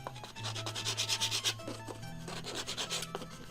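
Coarse 120-grit sandpaper rubs steadily back and forth over a cylinder part in repeated close strokes, with a gritty abrasive rasp and no voices.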